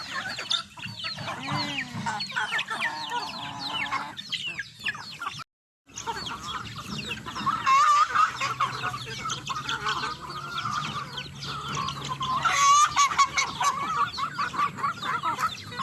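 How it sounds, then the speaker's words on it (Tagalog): Several native chickens cluck and chatter close by at feeding time in rural Ilocos, Philippines, with a rooster's call rising now and then over a busy barnyard, the flock sounding continuously for a while. "magpapatuka tayo ng mga manok"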